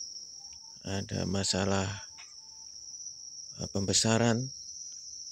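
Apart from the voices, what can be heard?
crickets chirping on a cricket farm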